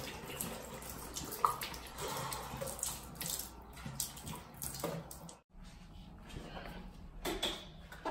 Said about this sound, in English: Just pour it all over the sink.